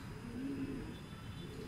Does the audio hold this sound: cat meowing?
no